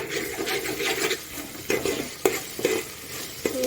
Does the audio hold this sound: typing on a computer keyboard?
no